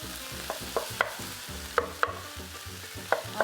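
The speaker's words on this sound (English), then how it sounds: "I'm going to break the meat a little bit, and we're going to brown it" Ground meat and onions fry and are stirred for a tamale pie, with a steady sizzle and rhythmic spatula scrapes and clicks against the pan, close and without talk.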